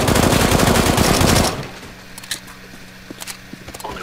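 Loud automatic gunfire in the Counter-Strike video game fills the first second and a half, then cuts off, leaving faint clicks and a few soft game effects.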